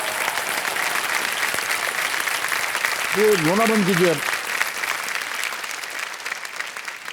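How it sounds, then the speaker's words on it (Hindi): Studio audience applause fills a Kaun Banega Crorepati India taping, a steady, loud wash of clapping throughout, with a brief spoken line from the stage cutting in over the top midway. "एक बार जोरदार तालियां बज जाए इनके लिए।"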